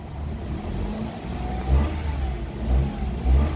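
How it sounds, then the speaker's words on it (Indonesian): A 2015 Toyota Agya G automatic engine runs steadily at idle with a low rumble, giving a few light revs that swell and fall back. "mesin juga ini masih stabil nih RPM nya"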